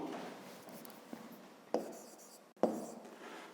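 A pen scratching across paper as a fifth-grade maths solution is written out, soft continuous strokes with a few sharper taps, close and quiet, with no voice.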